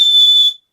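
A single sharp, high-pitched whistle blast from a small emergency whistle, held for about half a second, loud and close, then cutting off abruptly.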